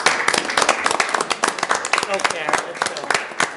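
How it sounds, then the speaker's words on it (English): Applause at a public meeting as attendees stand to be recognized, dense scattered hand claps filling the room at close range, with a voice speaking briefly over it. "Why don't all of you stand so we could give you a little round of applause?"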